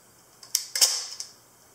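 A Kiev 88 medium format film camera shutter fires up close: a soft mechanical whir and two sharp clacks within about a second, followed by quiet.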